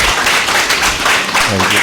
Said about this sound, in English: Can we please give them a big round of applause?